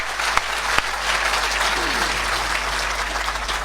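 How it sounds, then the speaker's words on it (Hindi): Live audience clapping for a comic poet at a stage show, a full steady wash of applause throughout with a couple of sharper claps near the start and a low hum beneath. "Guinness book of world record के कवि के लिए इतनी कम तालियां अच्छी नहीं हैं।"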